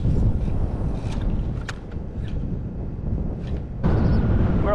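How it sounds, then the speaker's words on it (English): A gust of wind buffets a boat while nearshore fishing at Orange Beach, Alabama, heavy rumbling wind noise that dips midway and surges again near the end. "that was a gust of wind"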